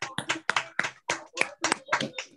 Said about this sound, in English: join me in a round of applause before Jane closes the call